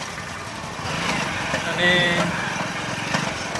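Motorcycle engine idling nearby in a rural village, a steady low putter that swells briefly, with a person speaking over it.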